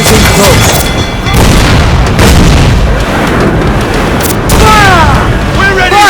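Cannon broadsides from a pirate ship in Assassin's Creed Black Flag thunder in rolling, overlapping booms, loud and continuous, with shouting voices mixed in among the blasts.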